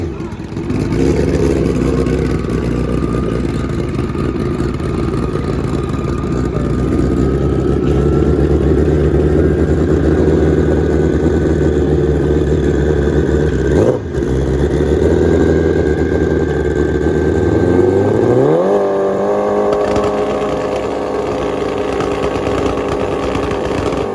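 A drag racing motorcycle with a fault, unable to engage its clutch, runs its engine in a steady loud drone that rises in pitch near the end, close and continuous.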